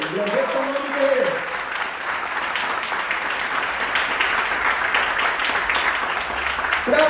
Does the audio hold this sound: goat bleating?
no